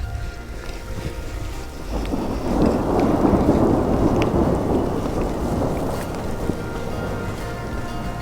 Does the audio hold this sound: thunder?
yes